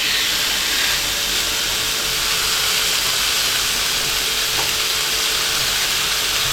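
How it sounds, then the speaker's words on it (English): Steak sizzles steadily on a Ninja Sizzle GR101UK grill plate, a continuous close hiss of frying fat with faint crackle and steam throughout, no voices. "And it's sizzling away."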